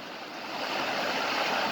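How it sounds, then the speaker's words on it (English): Floodwater about two feet deep rushing fast during heavy rain, a steady, broad roaring wash that swells slightly louder partway through, with no talking. "So that's 2 feet of water moving 30 miles an hour."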